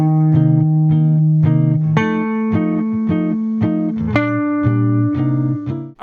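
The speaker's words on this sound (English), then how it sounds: "So if I play just the thirds with the track, it sounds like this." Jazz guitar sounding single chord thirds over a ii-V-I backing track, clean sustained notes changing every couple of beats in a steady rhythm, up close and without talk.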